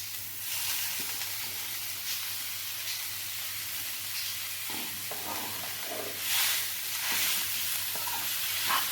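Grated potatoes go into a hot pan and are stirred, making a continuous frying hiss and sizzle with some soft scraping movements and a louder burst near the end.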